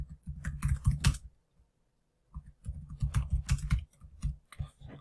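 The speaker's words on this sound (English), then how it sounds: "then I can type in my text" Rapid keystrokes on a computer keyboard come in two close, busy bursts separated by a short pause, with clicky taps and no voices.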